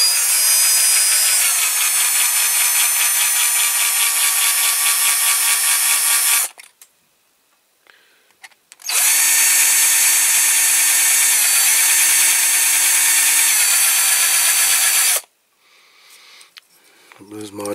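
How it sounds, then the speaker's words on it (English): A loud, high-pitched power drill whines in two long sustained bursts drilling out a rivet on a die-cast toy car, its pitch dipping slightly under load, separated by a short quiet pause. "Drill out this."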